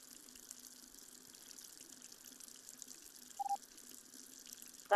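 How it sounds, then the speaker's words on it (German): Steady running water from a tap in a video game, a soft continuous splashing with a couple of faint clicks near the end. "Das Wasser plätschert hier so laut,"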